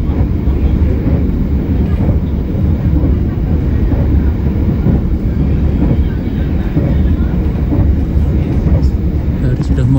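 Ranggajati business class train running on rails, a loud, close rumble heard from inside the carriage with steady rhythmic clatter of wheels over track joints, a speaking voice partly audible over the noise.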